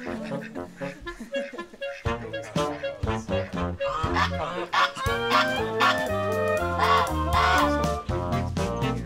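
Geese honk and ducks quack in a busy, overlapping chorus at an island campground on Galiano Island, British Columbia, in the rain, loud and close, with calls tumbling over each other continuously.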